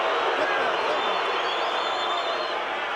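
Cheering, roaring crowd filling a boxing arena in Las Vegas between rounds, a dense continuous wash of voices heard close and loud throughout with no single voice standing out.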